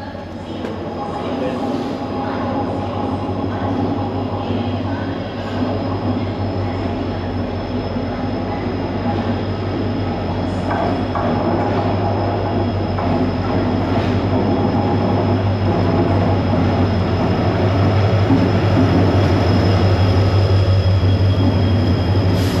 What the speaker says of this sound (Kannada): ಈಗ ಪ್ಲ್ಯಾಟ್ಫಾರ್ಮ್ 5ಗೆ ಯಾವುದೋ ಟ್ರೈನ್ ಬರ್ತಾ ಇದೆ, ನೋಡೋಣ